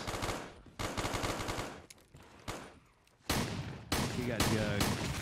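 Shotgun blasts in a zombie survival shooter, several loud rapid bursts of gunfire separated by short gaps, with game noise in between.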